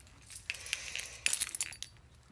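A ring of keys jangles nearby in a garage, giving a few quiet, bright metallic clinks and a brief rattling burst in the middle, with no talk.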